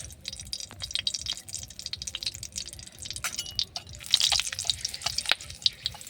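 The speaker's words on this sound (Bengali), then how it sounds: "কটা শুকনো ঝাল ভেজে নেব আলু ভর্তা মাখার জন্যে" Dried chillies frying in mustard oil in a kadai for mashed potato, a crackling, spattering sizzle with sputtering bursts that grow louder toward the end, heard close with no voices.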